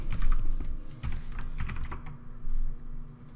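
Fingers type on a computer keyboard in quick bursts of close key clicks with short pauses between runs, while a low steady hum sits underneath and nobody speaks.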